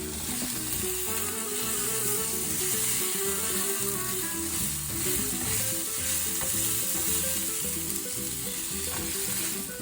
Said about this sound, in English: Nothing better than watching vegetables sizzle in a pan, is it?